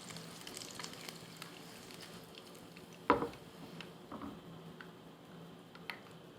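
A half-fried egg sizzles faintly in oil in a pan, with a low steady crackle and one sharp clink of a utensil partway through.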